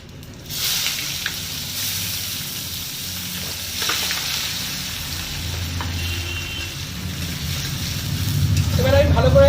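Chopped onion fries in oil with cumin seeds and bay leaf for a Bengali egg dish, a steady close sizzle that swells louder toward the end, with faint background noise underneath.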